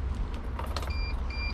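With the ignition of a KAMAZ 65115 truck switched on, the cab is quiet except for a couple of short, faint electronic beeps over a low background rumble.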